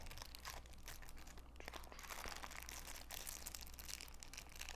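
Packaging around Marvel Champions cards from the Mojo Mania scenario pack crinkles and crackles continuously, a faint, close, busy rustle with no talking.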